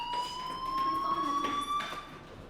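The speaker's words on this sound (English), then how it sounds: "Hey, do you hear that fire alarm?" A fire alarm in the video game Life Is Strange sounds a steady, piercing electronic tone, held continuously at moderate level for about two seconds before cutting out, with a faint background hum.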